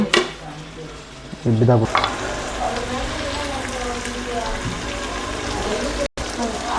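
Chopped tomato and coriander leaves sizzle steadily in a hot pan of vegetable pulao over low gas while being stirred, with a brief voice near the start.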